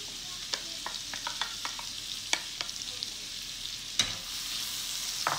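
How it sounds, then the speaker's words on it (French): Onion fries in a pan with spices and grains, giving a soft, steady sizzle punctuated by irregular light scrapes and clicks as it is stirred, with no talk. "Voilà, donc j'ajoute l'oignon"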